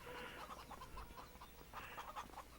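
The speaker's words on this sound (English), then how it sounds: "We got chickens." Chickens cluck repeatedly on a farm in Farming Simulator 25, set in the Risoux Forest, a quiet, steady run of short clucks under faint background hum.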